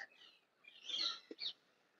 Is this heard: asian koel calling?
yes